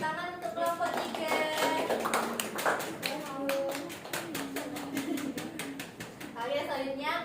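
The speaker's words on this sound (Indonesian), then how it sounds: "tepuk tangan untuk kelompok 3" Classroom clapping for student group 3, rapid claps from several hands sounding as dense taps alongside a talking voice throughout.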